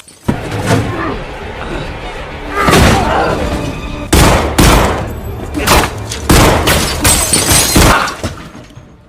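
Gunfire from a film shootout between a robber and defenders in a shop, rendered as dense, loud bursts of shots and impacts that recur in rapid clusters across the scene, close and harsh with little pause between volleys.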